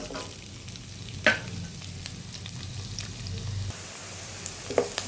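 Onions fry in hot oil with mustard seeds and cumin, a quiet steady sizzle broken by a few stirring scrapes and clinks of a spoon against the pan.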